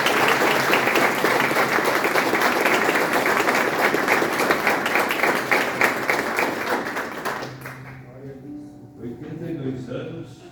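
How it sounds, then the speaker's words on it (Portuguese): A church congregation claps loudly and steadily for a visiting preacher, a thick, energetic burst of applause that fades out after about eight seconds, followed by quieter voices and room sounds. "dando uma salva de palmas para o Senhor Jesus"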